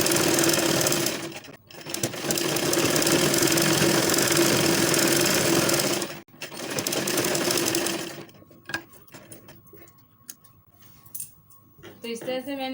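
An electric sewing machine stitches the lining of a kurti in two loud, continuous close-up runs with a short pause between them, then falls quiet while small handling clicks and some speech follow.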